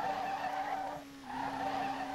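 A drift-setup Nissan Skyline in the racing game Street Legal Racing Redline gives a steady whining engine tone and tire squeal, dipping briefly in the middle before resuming, with no talking.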